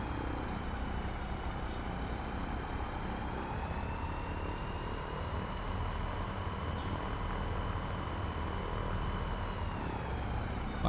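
A P42 aircraft engine warms up in MSFS 24, giving a steady, loud propeller drone with a constant whine layered over it, unchanging for the whole stretch.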